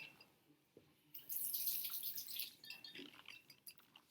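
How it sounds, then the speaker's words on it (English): Water running from a tap to rinse a pH probe in a lab, a faint hiss that starts abruptly after a quiet moment and then continues as a soft splashing trickle. "Once we take it out, we want to rinse it off a little bit."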